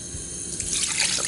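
Water pours into a cooking pot holding red onion and a little olive oil, a steady splashing trickle that grows slightly louder toward the end, with no talk over it.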